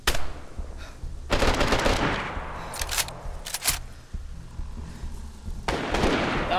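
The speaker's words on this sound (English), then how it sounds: "I'm being shot at, mate." Gunfire in the survival game DayZ rings out in sharp bursts of automatic shots, loud and close, separated by short pauses and echoing tails over about six seconds.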